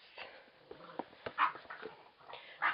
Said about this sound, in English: Sorry about the dogs in the background in there playing.